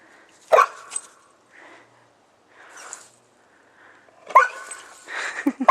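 A large Labrador puppy lets out sharp barks and low growls in separate bursts, close by, with quiet pauses in between and a cluster of barks toward the end.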